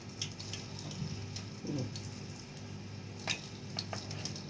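Round potato slices dropped one by one into hot oil sizzle quietly in a pan, a soft steady frying hiss broken by occasional light clinks and scrapes, close but faint, no voices.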